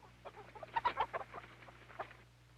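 A chicken clucking in a quick run of short, soft clucks, somewhat distant, over a low steady hum, on an old 16mm film soundtrack.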